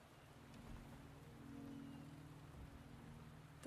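Steady rain in the video game Wuthering Waves, a soft, even hiss of falling drops holding at a constant low level with a faint tonal hum underneath, with no voices.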